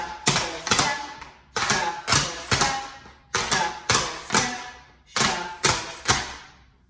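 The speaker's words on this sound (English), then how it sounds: "Shuffle, step, shuffle, step," Tap shoes strike a hard floor in repeated shuffle-step patterns, four crisp bursts of quick metallic taps in a steady rhythm, close and clear with no talking.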